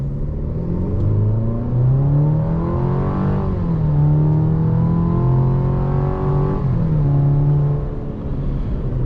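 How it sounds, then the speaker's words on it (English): 2024 Chevy Colorado ZR2 truck with a 2.7-liter turbocharged four-cylinder, in two-wheel drive with traction control on, accelerating at full throttle; the engine drone climbs in pitch through two gear changes, loud and steady from inside the cab. "I'm just going to floor it and see what happens."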